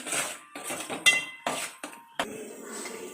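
Garam masala and red chili powder being mixed in a bowl, a run of short metallic clinks and scrapes of a spoon against the bowl in uneven bursts with brief pauses, close and clear.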